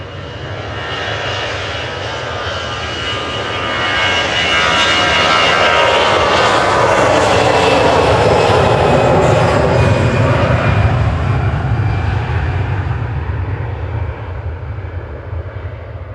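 A Virgin Atlantic Airbus A330 jet at Manchester Airport roars loudly and steadily, swelling to a peak midway and easing slightly toward the end, with a deep rumble and broad engine whine heard alone.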